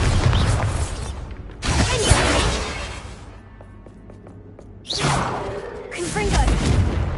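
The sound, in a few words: Bombarda spell cast in Hogwarts Legacy video game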